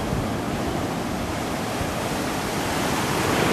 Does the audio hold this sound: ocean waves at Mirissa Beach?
yes